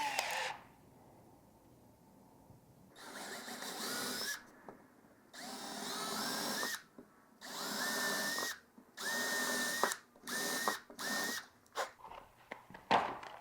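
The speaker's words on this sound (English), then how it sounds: "we're going to want to pre-drill in this because this is likely maple" A power drill with a small pilot bit bores into maple in several bursts of whirring, some short and some held for a second or two, separated by quiet pauses, close and clear.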